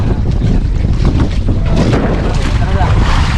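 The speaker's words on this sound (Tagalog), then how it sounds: "lumakas na yung hangin" Strong wind roars loudly and constantly on a boat at sea during a storm, battering the microphone with a dense, unbroken rumble throughout.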